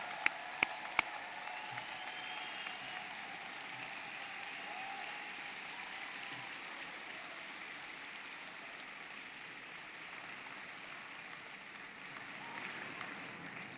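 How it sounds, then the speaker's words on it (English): Sustained applause from a large audience at an engineering convocation, a dense steady patter of clapping heard from some distance and lasting throughout. "They deserve a big round of applause from us."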